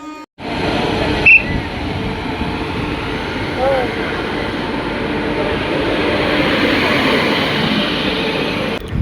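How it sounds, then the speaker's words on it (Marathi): A train rumbles in to a station platform with a steady, loud low roar and rattle that builds slightly, a brief high squeal near the start, and faint voices in the background. "हे आहे प्लॅटफॉर्म आणि इकडनं येत आहे ट्रेन"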